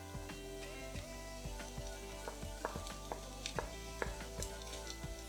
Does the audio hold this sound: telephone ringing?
no